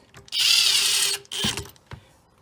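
A Phillips screwdriver or impact driver runs on the plastic headlight bracket screws of a Yamaha TW200 during an LED 4x6 headlight upgrade, giving one long close whirring burst followed by a shorter buzz and a faint click, with no talking.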